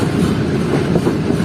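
A short Rehman Baba Express train rake at Peshawar, left after a derailment near Karachi, rumbles along with a steady close clatter of wheels on rails, loud and continuous.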